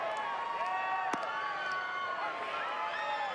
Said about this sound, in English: We've got a good crowd here.